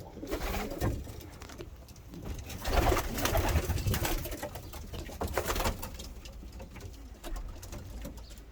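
Ornamental doves coo in a busy breeding aviary with chicks and brooding pairs, layered low calls repeating steadily at close range among other soft bird sounds.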